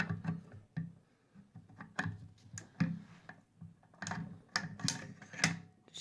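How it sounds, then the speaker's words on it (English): The bolt of a Browning X-Bolt .270 Winchester rifle slides back into the action in a run of crisp metallic clicks and sliding knocks, close and fairly quiet, broken by short pauses. "Let's put the bolt back in"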